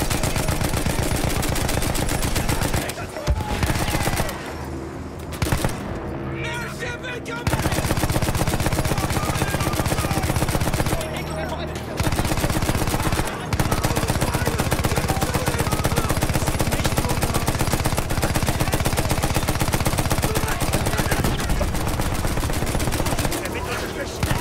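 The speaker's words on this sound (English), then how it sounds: "Shoot the big ass turret gun." Big turret gun firing in the World War I shooter Battlefield 1, a loud, sustained rattling barrage that runs almost the whole time with only brief pauses, while a player's voice talks over it.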